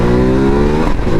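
Loud, close engine roar from a 2019 Ducati Multistrada 1260 Pikes Peak Edition motorcycle under acceleration, a dense, strongly pitched drone that stays powerful for over a second and shifts slightly near the end; no speech.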